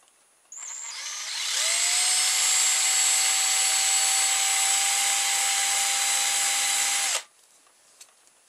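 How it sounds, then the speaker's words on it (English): An electric drill whirs steadily for several seconds inside a cheap electric motor to clean it out, its motor spinning up to a high, even whine before cutting off abruptly. "all I'm going to do is run a drill inside there and try and clean it out a bit"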